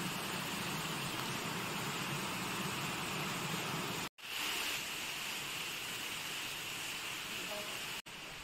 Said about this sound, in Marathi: आणि हा झरा इथून जातोय